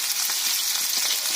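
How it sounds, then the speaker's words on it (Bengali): Onions frying in hot oil in a wok for aloo posto, a dense, continuous sizzle and crackle, close and steady with faint pulses of stirring. "আগে পেঁয়াজটাকে ভাজা বসিয়ে দেবো, একটু পেঁয়াজটাকে ভাজা হয়ে যাক।"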